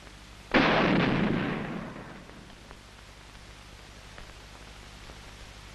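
Army tank main gun fires in a training exercise, a single sharp loud blast followed by a long rolling rumble that decays over about a second and a half into quiet background.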